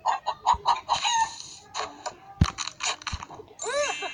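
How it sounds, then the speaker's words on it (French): A hen clucks repeatedly in a video game with a kingdom setting, a series of short, bright, close clucks with a few squawks, ending in a rising warbling call. "C'est une poule extraordinaire."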